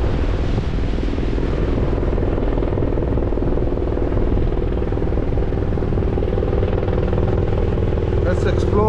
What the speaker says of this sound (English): There's another military chopper coming this way.